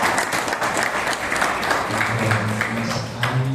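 An audience at an Indonesian religious lecture claps in sustained, dense applause, loud and close, with a low murmur of voices underneath.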